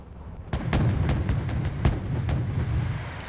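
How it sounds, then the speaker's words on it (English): AMOS twin mortars in the Wargame Red Dragon combat game fire in a rapid series of about ten heavy booming shots over a rumbling battle background, each thud distinct and fairly close. "Destroying helicopters is especially easy for Amos mortars because they are rapid firing, they have high explosive damage, and also they are very accurate."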